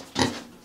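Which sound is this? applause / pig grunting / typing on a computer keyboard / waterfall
pig grunting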